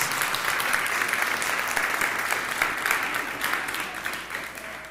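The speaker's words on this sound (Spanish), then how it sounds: "Un aplauso, hermanos, a estos hermanos." A congregation at a church marriage meeting claps for a couple, a steady, dense round of applause from many hands that holds for several seconds before tapering slightly.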